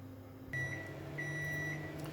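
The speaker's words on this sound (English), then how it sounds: "I forgot to turn the oven on." A home oven is switched on: a low electric hum kicks in and holds steady, with a thin high tone sounding through it, close and fairly quiet.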